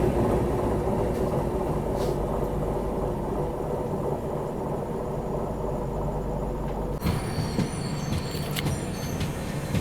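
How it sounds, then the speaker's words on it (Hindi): Kaifiyat Superfast express train overtaking on a parallel track, a steady loud rumble of wheels and carriages rushing past nearby, with a sharper clattering burst near the end. "कर दिया भाई कैफियत सुपरफास्ट का हमें ओवरटेक।"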